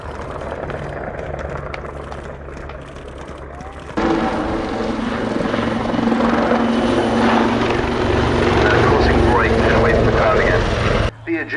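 Royal Navy Merlin helicopters flying a display at Yeovilton Air Day 2016: a loud, steady rotor and turbine roar that swells sharply after a few seconds and holds close overhead, with a commentator's voice running underneath.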